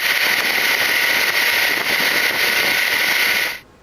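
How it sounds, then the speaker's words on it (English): Yamaha F130 outboard motor running on a Whittley SL20 boat, a steady loud drone with broadband hiss that holds evenly for over three seconds before cutting off abruptly. "this SL20 today, it's powered by the Yamaha F130."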